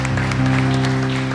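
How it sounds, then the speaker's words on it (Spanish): Church congregation clapping together during a Spanish-language evangelical service, steady dense applause filling the room beneath a sustained musical tone. "Yo quiero que le dé una ofrenda de palmas al Señor"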